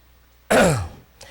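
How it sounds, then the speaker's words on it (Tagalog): A man clears his throat once in a loud, rasping burst that trails off, followed by a brief faint second rasp, heard alone in a quiet room. "Pagpasensyahan niyo na po kung ako ay inuubo man."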